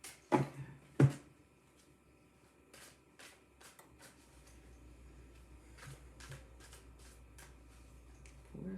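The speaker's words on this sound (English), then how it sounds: "Let me give it a good shuffle." Soft riffling and snapping of tarot cards being shuffled, close up, with a couple of louder knocks at the start and quiet pauses between.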